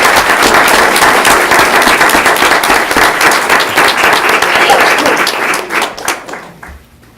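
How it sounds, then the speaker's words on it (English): Board meeting audience applauding in a hall, a dense, loud wash of many hands clapping at once that holds steady, then thins and fades out toward the end. "let's give these folks a round of applause"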